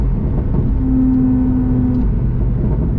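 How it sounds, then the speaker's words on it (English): A Porsche 911 Targa 4S engine drops through a downshift, a loud, close, low rumble with a brief rising tonal whine in the middle, heard from the cabin with no voices. "So listen, here's the downshift."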